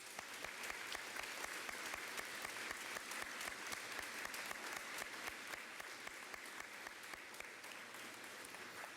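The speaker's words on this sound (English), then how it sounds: "Let's give our fifth graders a round of applause." Steady applause from an audience for fifth graders at an elementary school D.A.R.E. graduation, a dense, continuous wash of clapping lasting throughout, moderately distant and even in level.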